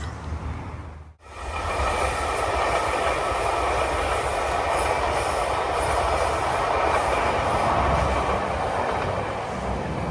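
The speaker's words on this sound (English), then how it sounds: "There's an old-fashioned looking train." An old-fashioned train rumbles past close by on a path near Inverness, a steady loud roar with rattling wheels and faint squeals after a brief dip at the start.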